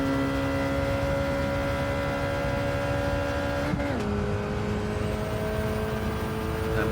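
A Copen kei race car's engine drones loud and steady while accelerating through a corner, its pitch dropping sharply once partway through as it shifts gear, then holding a continuous roar.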